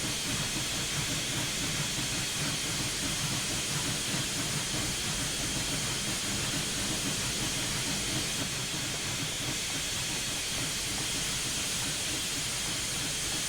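Steady rhythmic exhaust chuffs from a Union Pacific Big Boy steam locomotive rolling through a train yard in Train Simulator 2021, set under a continuous loud hiss of steam.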